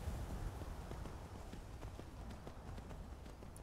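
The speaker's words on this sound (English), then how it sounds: "we're gonna climb up on the horse and get going." Horse hooves gallop in Skyrim, with a steady run of clip-clop beats over a continuous ambient bed, at a moderate, even level throughout.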